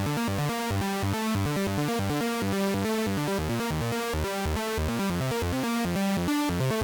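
A dense, buzzy wavetable synthesizer in unison mode with a count of 30 drones and pulses in a steady repeating pattern, with a faint hiss of noise layered underneath throughout.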